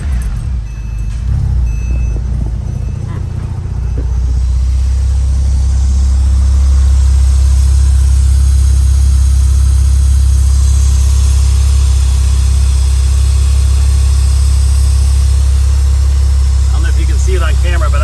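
A Porsche engine runs steadily during a blow-by test, a loud, constant low rumble filling the whole stretch, with brief clatter near the start and faint higher whirring over it.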